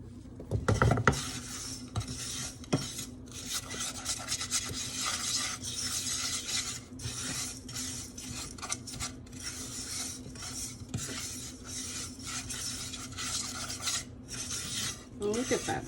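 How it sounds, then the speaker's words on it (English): Breadcrumbs and grated Parmesan being stirred in a bowl for baked scallops, a continuous gritty scraping and rasping with steady strokes, close and fairly quiet, with no talking. "And now we're stirring the breadcrumbs."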